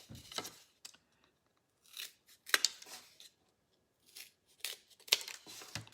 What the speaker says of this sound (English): just regular scissors will cut them